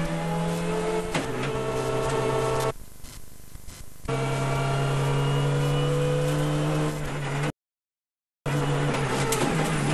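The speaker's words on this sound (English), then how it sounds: "He loses 3 minutes on the stage, and the problem sounds a familiar one. Some turbo failure, we think." A rally car on a 2006 Spanish rally stage runs with a steady, loud engine drone that dips and cuts out briefly as it slows with a turbo failure, then resumes.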